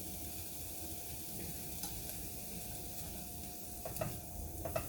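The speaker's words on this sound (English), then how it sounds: "You hear our stuff is starting to sizzle." Vegetables fry in a pan with a quiet, steady sizzle, broken near the end by a few faint clicks of stirring.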